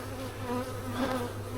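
Honey bees hum steadily during an inspection of a large hive, a close, continuous buzz with several overlapping tones and no talking.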